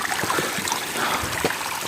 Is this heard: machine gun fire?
no